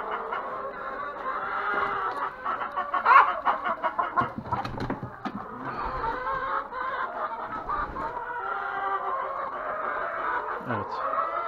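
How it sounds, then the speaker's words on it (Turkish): Hens in the coop cluck continuously while waiting their turn to lay eggs, a near, steady murmur of clucks with a few louder squawks and a short crowing note. "Tavukların yumurtlamak için sıra bekliyorlar burada"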